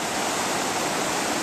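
A river rushes across bedrock at a gold-prospecting contact zone, a loud, close, continuous broadband roar of flowing water with no voices.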